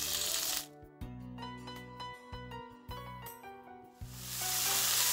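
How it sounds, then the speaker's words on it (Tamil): Fresh coriander and mint sizzle as they sauté in a hot pan, with a steady crackling fry broken by stirring scrapes and short pauses, heard close. "2 நிமிஷம் இதை நல்லா வதக்கிடுங்க."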